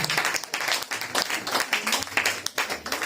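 A church congregation applauds together, a dense, continuous wash of many hands clapping with a few voices and cheers mixed in, steady and fairly close throughout.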